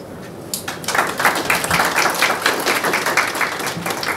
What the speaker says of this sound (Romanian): În sală sunt aplauze, nu știu dacă se aud și online.